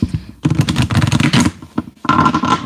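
Tarot cards shuffle in quick, dense papery riffles in two bursts, the first longer and the second after a short pause, loud and close with no talking.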